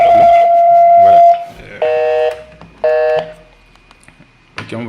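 A Grandstream DP750 DECT phone on speakerphone, linked to a Yeastar IP PBX, gives a steady electronic tone and then two clear, even beeps about a second apart as a call connects. A brief burst of noise follows.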